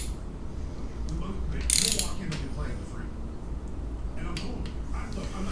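Torque wrench ratcheting as cylinder head bolts on an LS engine are tightened, a steady mechanical clicking under a constant workshop hum, with a brief brighter burst partway through.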